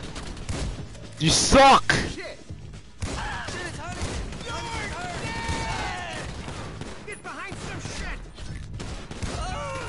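Bursts of gunfire from the video game GTA 5, a loud volley near the start and then scattered shots under excited talking.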